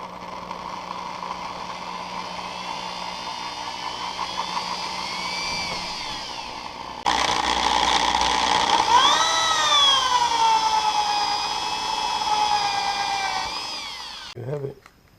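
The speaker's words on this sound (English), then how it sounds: "Then I'm gonna drill a hole in one of these covers." A power drill whines steadily, its pitch rising and falling as it bites into a plastic cover for a 1991 Honda CRX exhaust cutout switch, then stops with a short clatter at the end.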